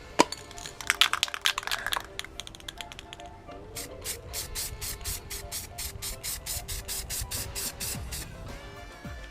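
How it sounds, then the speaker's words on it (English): Rust-Oleum metallic gold spray paint hisses from a can in a close, rapid series of short bursts, then longer steady sprays, with no talking. "So we'll take this out now and spray it with gold paint."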